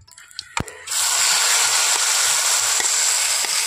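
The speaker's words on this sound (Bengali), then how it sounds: "কড়াইয়ের মধ্যে দিয়ে দিচ্ছি সরষের তেল, একটু পরিমাণ আমি দিয়ে দিচ্ছি কালো জিরে। এখন আমি দিয়ে দিচ্ছি লতিটা।" Arum stems hit hot mustard oil with black cumin in a wok and burst into a loud, steady sizzle after a few quiet clinks, hissing continuously close up with no talking.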